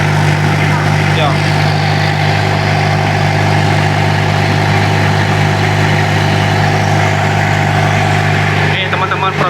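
A 1999 Toyota Kijang engine idles steadily during a tuning job after a Black Core catalyst and oil additive are fitted, a loud close low hum with constant vibration and someone talking over it.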